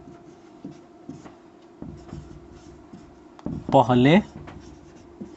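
Pen writing on paper while a maths problem is worked out, soft scratchy strokes in short bursts, with someone briefly speaking over it.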